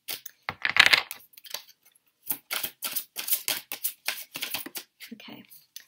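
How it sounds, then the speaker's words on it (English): Slippery tarot cards are shuffled by hand up close, giving irregular bursts of papery riffling and slapping with short pauses between handfuls. "These cards are slipping around quite a lot, so I'm just trying to shuffle them best way I can."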